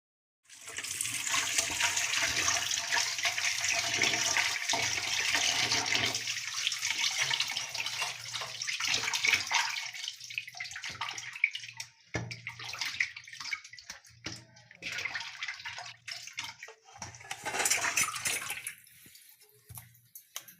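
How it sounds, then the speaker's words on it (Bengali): Tap water runs steadily while fish and vegetables are washed in a home kitchen, a continuous close splashing stream that breaks into uneven gushes and trickles toward the end, with no talking. "মাছগুলো কেটে ধুয়ে নিয়েছি, এখন সবজিগুলো ধুয়ে নিব"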